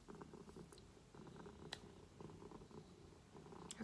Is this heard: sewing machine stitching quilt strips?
no